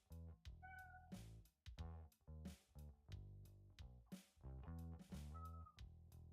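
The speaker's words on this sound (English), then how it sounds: "I don't know if you can hear my cat." A house cat meowing insistently outside a closed door, a run of repeated drawn-out and short meows in quick succession, fairly faint and muffled, with no talk over it.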